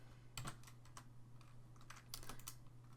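Computer keyboard keys clattering as code for a Minecraft plugin is typed, a quick uneven run of soft clicks in two short flurries over a steady low hum.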